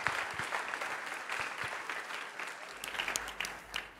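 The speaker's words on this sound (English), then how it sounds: "Give her a round of applause." Audience applause after a pitch at a startup competition session, a lively burst of many hands clapping close and loud that thins and trails off near the end.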